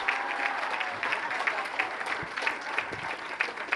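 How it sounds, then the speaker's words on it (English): An audience at a gala award event applauds steadily, a dense wash of clapping that stays even and fairly loud throughout. "Please, a round of applause to Erin Cutraro and Yvette Clark."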